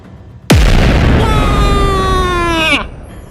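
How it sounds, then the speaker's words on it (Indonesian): A sudden loud explosion bursts out, followed by a roaring, rumbling blast with a falling whine, then cuts off abruptly. "Ledakan kembali terjadi di sisi utara arena."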